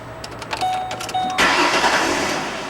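A car engine cranks briefly and fires up, rising into a dense, steady idle rumble close by.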